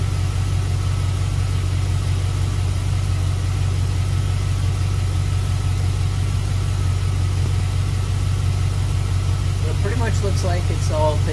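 A C4 Corvette engine idles in a steady, even low rumble that runs throughout, with a faint voice entering near the end.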